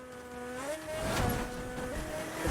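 A car in Fortnite drives past with a rising, revving engine tone, fairly faint under other game sound with no talking.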